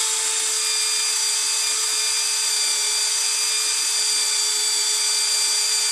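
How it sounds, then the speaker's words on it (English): A small power drill bores into wood, giving a steady, loud high-pitched whine that holds one constant tone throughout without a break. "It's a little champion at drilling these things."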